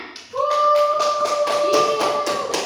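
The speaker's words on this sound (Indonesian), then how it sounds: "berikan aplaus untuk Nurul Fikrianti atas jawabannya" Scattered hand claps from a classroom audience, a quick run of taps over a steady electronic tone for about two seconds.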